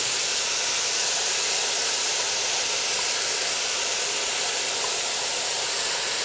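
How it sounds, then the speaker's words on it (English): Dried lentils hit caramelized sugar in a hot pot, setting off a loud, steady sizzling hiss that holds without a break and nobody talking over it. "So we're going to add in our dried lentils."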